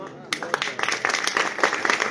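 An audience at a poetry gathering breaks into steady, dense clapping, close and lively, with a voice speaking over it.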